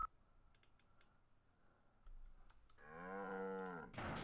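Cows mooing in the strategy game Command & Conquer: Red Alert 2: a long, loud, low bovine moo rises near the end, preceded by scattered keyboard and mouse clicks and a steady electronic tone, with no talking.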